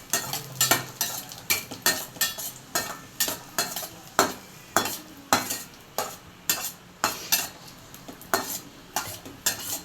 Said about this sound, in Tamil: முந்திரி கிஸ்மிஸ்லாம் நம்ம வந்து வறுத்து எடுத்துக்குவோம்